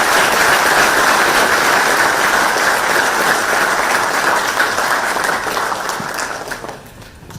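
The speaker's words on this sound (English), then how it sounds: "this needs a big, big round of applause" An audience of students at a Dallas, Texas event breaks into sustained, loud applause, dense clapping filling the room before thinning out and fading near the end.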